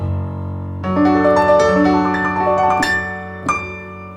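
A bright Roland digital piano plays a short chord phrase with crisp, ringing upper tones, notes layered over a held low bass, alone and clear.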